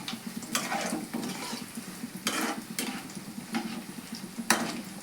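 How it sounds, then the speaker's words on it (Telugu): Bajji fritters fry in hot oil with a steady close sizzle, broken by several sharp scraping stirs of a utensil against the pan. "తర్వాత ఆయిల్ వేడైన తర్వాత బజ్జీలు వేసేయాలి."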